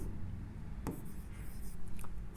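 Pen scratching on paper while writing out a physics formula, with a brief sharp stroke followed by faint, quiet rubbing strokes over a steady background hum.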